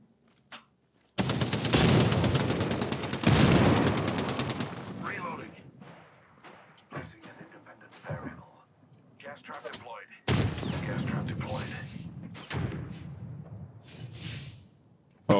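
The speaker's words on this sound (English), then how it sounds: "Oh, I'm getting sniped from all the way over there." Heavy bursts of gunfire from a video game shooter, including a sniper rifle, come in two long dense volleys with scattered single shots between them, loud and close, while players talk over the action.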